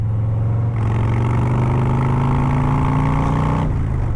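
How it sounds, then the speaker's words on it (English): A Harley-Davidson Street Glide ST's big V-twin revs as the cruiser accelerates, a loud, steady throb that climbs in pitch through a gear, then drops as the rider shifts near the end. "It is just overwhelming the senses with this big V-twin."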